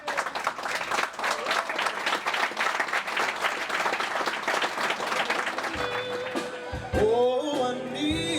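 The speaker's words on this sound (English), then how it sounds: "please give Rob a big round of applause" Wedding guests at a reception applaud steadily for several seconds, loud and continuous, before the clapping gives way to a piano and a voice starting a song.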